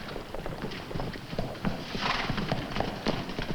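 Several horses clip-clop in a brisk, uneven rhythm of hoofbeats at moderate distance, with a brief whinny-like sound partway through.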